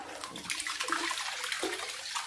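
A Fedus submersible filter pump, repaired for a koi and guppy tank, runs under water, giving a steady close churning and gurgling splash of moving water with no talk.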